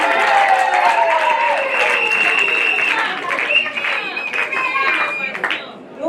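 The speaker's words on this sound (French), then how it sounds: "Si nous pouvons applaudir" Applause at a women's month closing ceremony, steady crowd clapping mixed with overlapping voices and some tonal sounds, fading toward the end.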